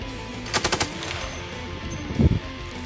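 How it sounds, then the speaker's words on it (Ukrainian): Machine gun fire from a remotely operated turret gun on a T-64 tank: two short bursts of rapid rounds, the first crisp and repeated, the second heavier and booming, loud outdoors without speech. "У Т-64 вогонь з цього кулемета ведуть дистанційно із башти"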